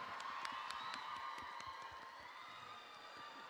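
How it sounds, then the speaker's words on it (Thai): A crowd applauds YinWar at a fan event, a steady wash of clapping and faint cheering heard from a distance, fairly quiet and continuous throughout. "ขอเสียงปรบมือให้กับยินวอด้วย"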